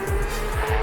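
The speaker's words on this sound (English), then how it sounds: "The pops, especially the difference how it sounds from the front to the back, and that exhaust of that flat six" Porsche flat-six exhaust in Assetto Corsa EVO during a Porsche Cup race at Spa, a loud sustained engine drone with a steady tone and low pops swelling near the end.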